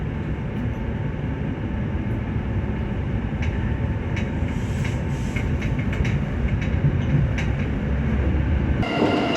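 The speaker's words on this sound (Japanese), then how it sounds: "こちら停車している電車に乗車したいと思います。" A Seibu Railway Kokubunji Line train idles at a station platform with a steady, close mechanical hum and faint station clatter throughout, and no one speaks.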